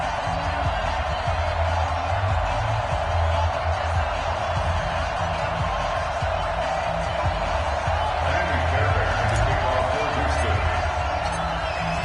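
A sellout stadium crowd roars in an EA Sports football video game, a steady dense wall of cheering and noise under a commentator's voice.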